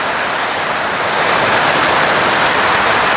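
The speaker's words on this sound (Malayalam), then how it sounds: "ഓരോ തിണ്ടുകളിൽ നിന്ന് വെള്ളം. ഇത് തമിഴ്നാട്ടിലത്തെ മറ്റേ ഈ ചെക്ക് ഡാം പോലെ ഇറങ്ങിക്കൊണ്ടിരിക്കുന്നു കേട്ടാ" Floodwater pours over ledges between house walls during a thunderstorm, a loud continuous broadband rush like a small check dam spilling, growing stronger partway through with no voices.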